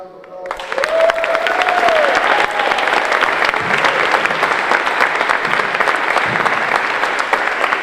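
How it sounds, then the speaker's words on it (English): A hall audience at a wallball national finals breaks into loud, sustained applause for the Tyrone organisers, dense clapping that starts abruptly and holds steady for several seconds, with a faint tone at the beginning and no speech. "Big round of applause."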